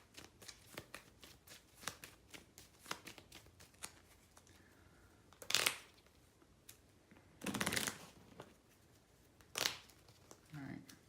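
A board game deck of cards is shuffled back together at a table, quiet riffling and tapping in several short bursts, with a few louder riffles standing out.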